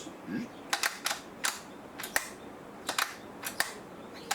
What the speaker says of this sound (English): You can hear the zipper now.